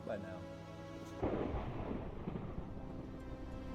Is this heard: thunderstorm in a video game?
yes